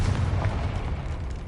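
A Confringo explosive spell cast in Hogwarts Legacy gives a dense, rumbling blast that sustains for the whole moment, heavy in the low end, with no talking over it.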